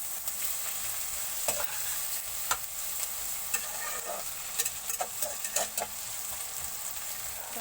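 Food frying and being stirred in a pan, a steady sizzle with intermittent scraping clicks of the utensil against the pan, close and alone without talk.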